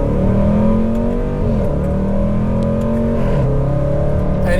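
A Jaguar F-Pace SVR's engine pulls hard going downhill in sport mode, heard from inside the cabin as a loud, steady roar with a rising and falling pitch as it shifts through the gears.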